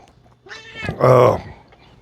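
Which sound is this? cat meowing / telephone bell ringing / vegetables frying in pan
cat meowing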